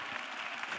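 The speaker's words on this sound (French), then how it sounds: "Acclamation." Brief applause from a congregation at a prayer and intercession gathering, a short, steady patter of clapping at moderate level.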